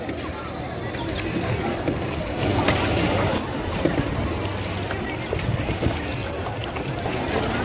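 Boats on the river at a bathing ghat in Chitrakoot, with a continuous rumble of water and boat activity and a broad wash of outdoor noise. People's voices mingle in the background throughout.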